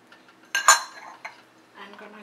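Cardamom and nutmeg powder get stirred into a thick puran filling for puranpoli: a couple of sharp metallic clinks of a spoon against the pot, then quieter scraping in a still kitchen.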